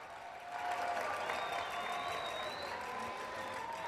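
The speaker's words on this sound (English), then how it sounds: "Let's give them a big round of applause." An audience at an archery World Cup Final opening ceremony in Tlaxcala breaks into sustained applause, a moderately distant wash of clapping with a few faint cheers.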